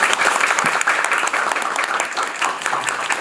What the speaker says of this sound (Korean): 저희들도 큰 박수 보내드립니다